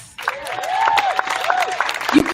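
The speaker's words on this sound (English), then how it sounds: "Would y'all please give another round of applause to Mia Pace?" A crowd at a Pittsburgh gathering breaks into clapping that swells quickly after a brief silence, mixed with rising and falling whoops and cheers.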